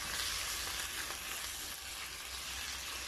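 Ground meat sautés in a hot pan for a Filipino sayote dish, giving a dense, continuous sizzle and crackle up close with no talking over it.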